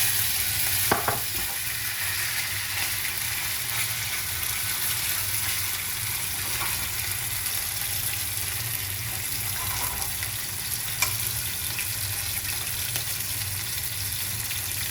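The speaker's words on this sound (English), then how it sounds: "Introduce the meat in the oil." Pork tenderloin frying in hot oil for a celery stir fry, giving a steady, even sizzle that holds throughout with a few faint clinks and shuffles near the pan.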